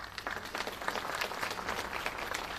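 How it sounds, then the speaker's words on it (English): Audience applause at a graduation ceremony for Dr. Beckwood, chairman of council: a steady, dense wash of many hands clapping at moderate loudness throughout. "Give Dr. Beckwood a round of applause"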